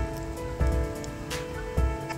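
Heavy rain falls in Sims Park in Ooty, a steady patter on surfaces with a couple of louder splashy bursts over a continuous wash.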